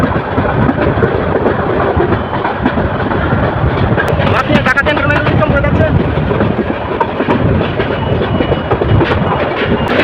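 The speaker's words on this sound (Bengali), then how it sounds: "সামনের দিক থেকে আরো ট্রেন আসছে" On the Kishorganj Express out of Dhaka, an oncoming train rushes past alongside, a loud, dense roar of wheels and rushing air that swells in the middle before settling back into steady rumbling.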